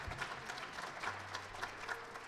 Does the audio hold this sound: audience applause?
yes